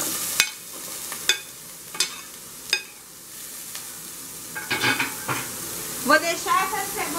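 Onion fries in oil in a large pan over the heat, a steady low sizzle punctuated by sharp, evenly spaced taps of a utensil against the pan, then busier stirring and scraping toward the end.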